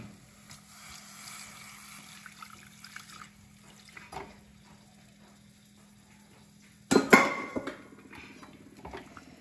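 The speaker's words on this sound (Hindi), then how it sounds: "वही पानी इसमें डाल देंगे" Boiled vegetable water is poured into a pan of oats khichri, a short loud splashing burst with a clink of the vessel after a stretch of quiet kitchen clatter and faint background hum.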